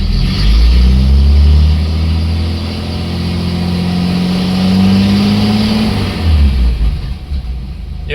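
A flathead Dodge Plymouth engine runs loud and close, its low hum rising in pitch as revs climb to a steady cruising speed, then dropping back near the end.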